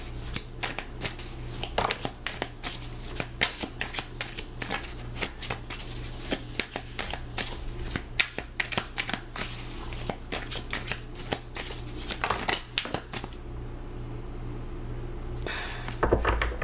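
Tarot cards being shuffled close by, a long run of rapid riffling flicks and slaps over a low hum, thinning out near the end.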